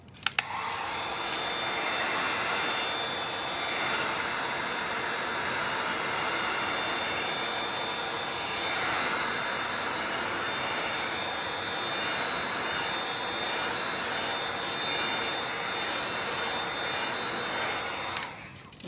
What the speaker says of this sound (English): So I'm gonna use a heat gun.